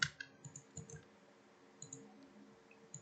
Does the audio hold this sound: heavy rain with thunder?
no